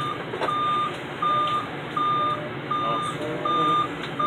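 Loud reversing beeps from an ambulance backing up, a steady series of six evenly spaced electronic tones about every three quarters of a second, heard close over a low engine rumble.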